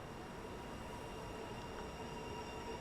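Simulated Class 395 train pulls into a snowy southeast England platform in Train Sim World 2, a steady rumble of wheels and motors with faint high tonal whine, continuous and moderately distant.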